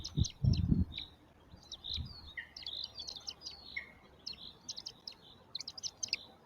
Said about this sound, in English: Lots of happy chirps happening.